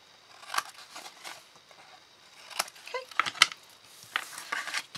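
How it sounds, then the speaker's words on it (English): Scissors snip diagonally across the corners of a folded card box base, several short sharp cuts spread across the moment with quiet handling noise between them. "just take your scissors and cut diagonally across on each of the four corners"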